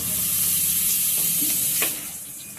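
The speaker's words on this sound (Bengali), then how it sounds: "তেলটা গরম হয়ে গেছে। আমি 1 চামচি মতো জিরে ফোড়ন দিয়ে দিয়েছি।" Cumin seeds sizzle in hot oil in a wok, a steady, close crackling hiss that continues throughout and eases slightly toward the end, with no talking.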